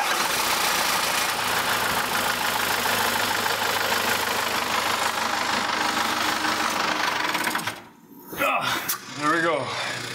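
A 3.9-litre Cummins 4BT diesel engine runs loud and steady at close range, then abruptly cuts out near the end with a few brief sputters and dying surges.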